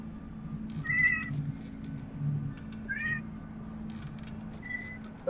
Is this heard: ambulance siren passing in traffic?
no